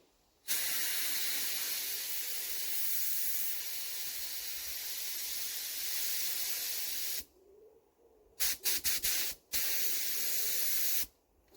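A paint spray gun sprays 2K lacquer onto a car wing at home, a loud steady hiss running about seven seconds, then several short sharp bursts and a final long spray.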